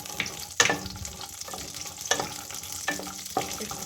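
Whole cashews frying in hot oil in a pan while a spoon stirs them, giving a continuous crackling sizzle punctuated by about five distinct scraping strokes at a steady rhythm.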